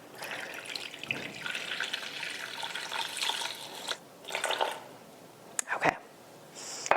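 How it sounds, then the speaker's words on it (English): Warm water poured into a muffin dough mixture in a home kitchen, a soft, steady splashing pour lasting several seconds with brief gaps, heard close and at moderate level. "And we're gonna add in some water."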